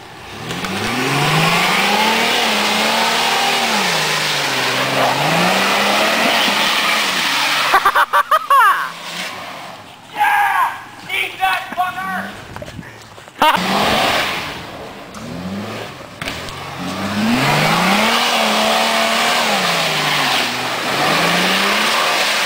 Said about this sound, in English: A two-wheel drive S10 was fully capable of making it through that.